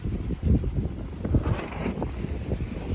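A sailboat moves slowly in gentle wind off Nuku Hiva in the Marquesas, with steady wind buffeting the microphone and a soft wash of water along the hull.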